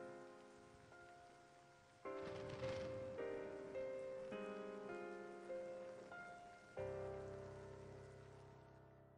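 Rain falling during a Final Fantasy XIII cutscene, a steady wash of rainfall beneath swelling orchestral music with sustained chords that shift every few seconds.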